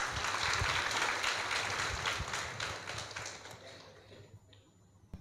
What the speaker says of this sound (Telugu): please clap for your self